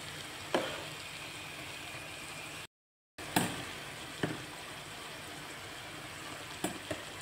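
Ricotta gnocchi with zucchini and speck sizzle steadily and softly in sauce in a pan, with a few light clinks of a utensil against the pan scattered throughout.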